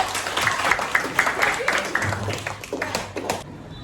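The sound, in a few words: classroom applause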